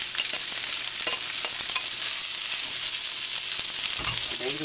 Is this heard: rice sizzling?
yes